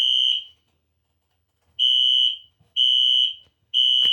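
A Wheelock fire alarm sounds during a test: a loud, piercing electronic horn tone, blasting in four repeated bursts of roughly half a second to a second each with short silent gaps between.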